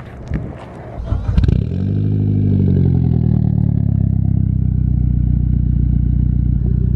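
Mitsubishi Lancer Evolution X engine starting up: a few clicks and a cranking starter, then the engine catches and settles into a loud, steady, rumbling idle close by.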